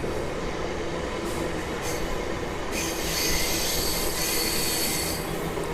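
A MEMU commuter train rolls into Pithapuram station on the Vijayawada to Visakhapatnam line, with a constant heavy rumble of wheels on rail and high metallic squeals rising as it slows.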